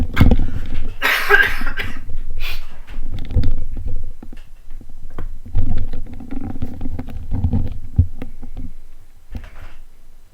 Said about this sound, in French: Je vais tousser, à tout de suite.